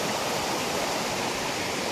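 A tall waterfall at the Marleshwar temple in Konkan roars in a dense, unbroken wash of rushing water, loud and steady with no voices over it.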